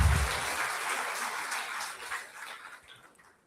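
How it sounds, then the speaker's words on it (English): A round of applause for four award recipients at a university festival day: steady, dense clapping from a crowd, moderately distant, gradually thinning and fading out over a few seconds. "Let's all give them a round of applause"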